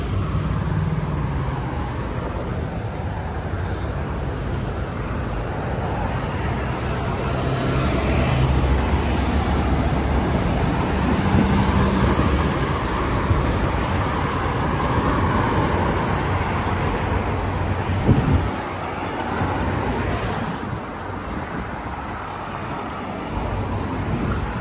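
Steady roar of cars on a wide road in Qatar, continuous passing vehicles near and far with a dense, unbroken traffic hum and occasional louder pass-bys.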